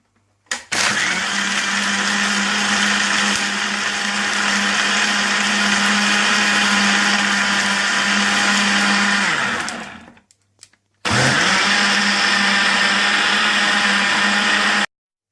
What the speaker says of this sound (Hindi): इसके बाद आप इसे ब्लेंड कर लें।